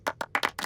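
Five sharp hand claps land in quick succession, close and crisp, a small burst of clapping with no talk over it.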